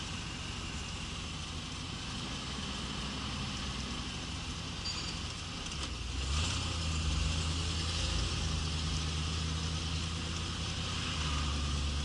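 An old Pontiac Trans Am engine idles with a steady low rumble under broadband noise, the idle deepening and growing slightly louder about halfway through, continuous and close.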